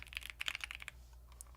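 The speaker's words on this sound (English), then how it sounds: "Oh, bunch of typing." Fingers type rapidly on a computer keyboard in a quick cluster of crisp keystrokes, then a few scattered, fainter taps, close and fairly quiet, with no talking.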